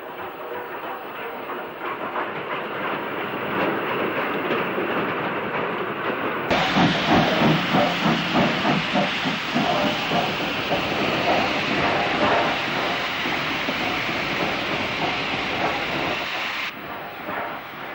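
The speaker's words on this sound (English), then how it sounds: "the engine is about to take over an enthusiast excursion, which is arriving behind snowplough-fitted 48652 of Bolton Shed" Snowplough-fitted LMS steam locomotive 48652 of Bolton Shed arrives hauling an enthusiast excursion train, a steady rolling rumble of wagons with hiss and rhythmic clatter that swells louder partway through and holds near.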